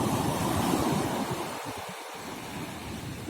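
Rough, stormy sea waves crash and roar at night, filling the clip with a loud, continuous wash of surf and wind noise and a brief lull near the middle.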